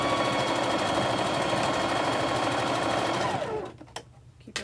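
A sewing machine stitching quilt fabric in a rapid, steady, close-up whir that runs for several seconds, then stops, followed by a few light clicks and handling noises.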